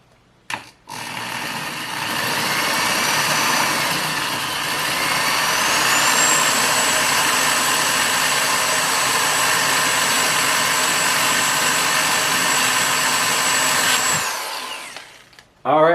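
A loud, continuous drill whine runs for more than ten seconds, its pitch shifting slightly as it bores through a metal pipe, then cuts off abruptly near the end.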